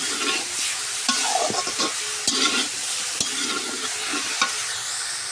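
Carrots and cabbage stir-fried in a pan, a constant bright sizzle with scraping stirs of a spatula against the metal, close and alone without talk.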